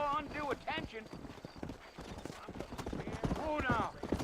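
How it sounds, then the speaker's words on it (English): Horse hooves clip-clopping along a trail in the video game Red Dead Redemption, a steady mid-level patter running under nearly continuous talking, with a whinny-like tonal call near the start and another toward the end. "let's mount up and hit the trail. Start horse riding now."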